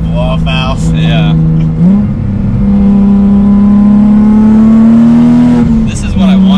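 A turbocharged Nissan 350Z engine drones loud and close under acceleration, its pitch climbing steadily through a gear before dropping at a shift, with voices talking over it.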